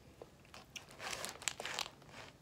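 Crisp, close crunching of Herr's horseradish and cheddar potato chips being bitten and chewed, a quick irregular series of dry crackles and crinkles, fairly quiet with no talking.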